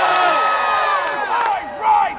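A loud crowd at the Louisiana Renaissance Festival cheers and shouts together in a rising, sustained roar with whoops and a final swell, heard close.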